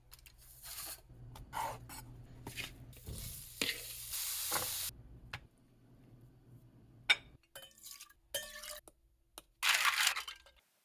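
Food sizzles and fries in a kitchen pan while being stirred, with scraping and clinking of the utensil against the pan in uneven bursts and short quiet gaps; no talking.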